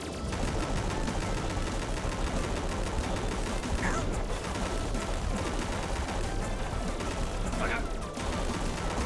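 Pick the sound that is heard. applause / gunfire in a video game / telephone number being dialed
gunfire in a video game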